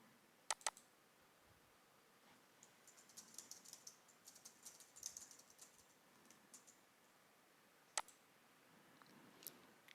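Keystrokes on a computer keyboard while editing a file, a quiet scattered run of light taps with a few sharper clicks at the start and near the end, no talk.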